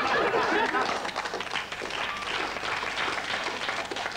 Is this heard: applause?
yes